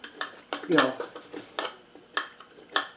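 A small tool taps and scrapes inside a hollow wooden acoustic guitar body, probing for a loose brace, producing several sharp clicks and rattles at irregular intervals, close and fairly quiet.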